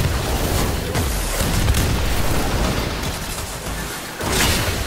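Ember's Fire Blast ability erupting in the Warframe video game, a loud, sustained roaring blast of fire and explosive rumble that fills the whole stretch amid ongoing combat noise, with a brief dip near the end before the roar resumes.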